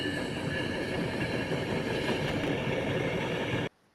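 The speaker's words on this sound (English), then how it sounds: "with a jitter and a judder, and the cars banging back and forth" Train cars on a rail line rattle and clatter steadily, a dense continuous metallic rumble with faint squeal, loud and close, cutting off abruptly near the end; no voices.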